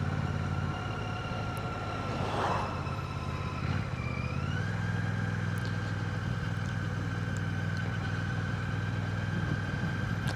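A 2025 Royal Enfield Classic 650 rolls in second gear with the throttle closed, its engine note a steady low rumble as it slows, with a brief pitch shift partway through and road noise underneath.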